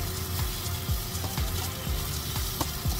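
Food frying in a pan on a home stove, with beef chow mein being stirred, gives a steady close sizzle and crackle, broken by a few soft scraping stirs and small pops.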